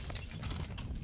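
Donkeys' hooves clip-clop steadily while they pull a carriage down a steep slope, a continuous low rumble of steps and rolling gear at moderate level with no voices.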